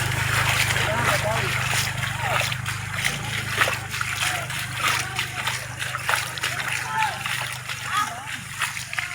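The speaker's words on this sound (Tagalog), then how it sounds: "Malakas ang tubig dito." Strong rushing floodwater from Typhoon Wilma pours and splashes continuously, loud and close, with a steady low rumble beneath; voices talk over the torrent.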